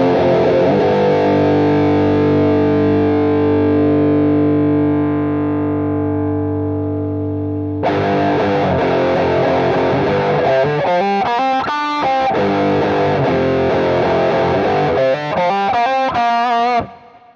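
Heavily distorted electric guitar played through a Neural DSP Archetype Petrucci amp simulator: a long sustained chord rings and slowly fades, then a fast run of picked lead notes and riffs follows, loud and close, with no talking.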